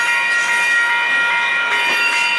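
Amtrak California train with locomotive 2004 passing close by, a loud continuous rolling rumble and hiss with a steady high whine from the wheels.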